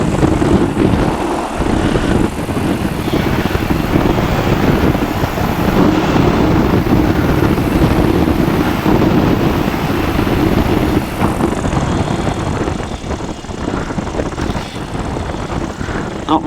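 Sub 70 flexwing microlight passing in a flyby, its propeller engine a steady, loud drone throughout with slight swells as it goes by, and wind rush mixed in.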